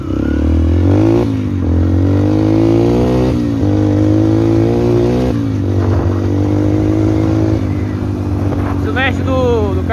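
A motorcycle engine with a sticking carburetor runs steadily close by, idling roughly with uneven revs and a faltering, stumbling tone, while someone speaks over it.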